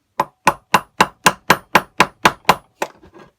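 Ten sharp, evenly spaced hammer blows strike a screwdriver to drive the piston pin out of a Stihl BG86 blower, loud and close, followed by a couple of softer taps and light rattling.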